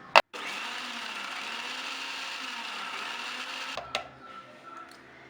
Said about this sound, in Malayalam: ഇത് നമുക്ക് ഒന്ന് ചെറുതായിട്ടൊന്ന് ഗ്രൈൻഡ് ചെയ്തെടുക്കാം